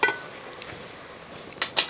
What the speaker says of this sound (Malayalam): ഇനി നമുക്കിതിൻ്റെ അടപ്പൊന്ന് മാറ്റിയിട്ട്